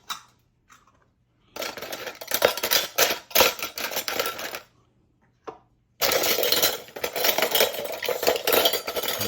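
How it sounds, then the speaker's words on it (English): Metallic clinks and rattles of canning lids being handled and set down on jars, in two bursts separated by quiet pauses with a few isolated taps. "So we're just gonna stick all the lids on."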